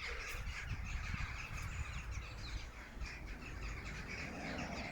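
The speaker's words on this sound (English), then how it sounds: "The birds are going crazy tonight." Crows caw loudly in the evening outside a house, repeated harsh calls mixed with other birds chirping, a busy continuous chorus at middling distance.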